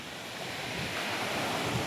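Steady wash of sea waves with wind rushing across the microphone, a continuous broad roar with no voices.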